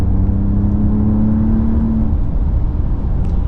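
A 2026 Ram RHO pickup truck accelerating hard, its engine a loud, steady, close drone with a rising whir, heard from inside the cabin with no voices.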